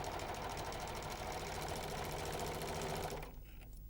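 A Janome 6234XL overlocker stitching a fabric seam while trimming the seam allowance, a fast steady mechanical whirr with rapid ticking that stops just before the end.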